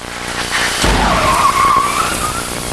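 A remote-controlled crash test cart rolls along a runway toward a Toyota Sienna minivan in a side impact test, giving a loud, sustained rushing roll with a rising whine.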